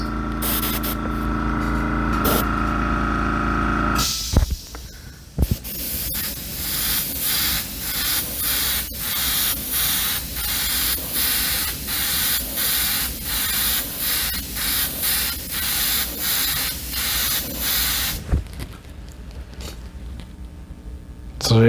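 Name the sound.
spraying yellow paint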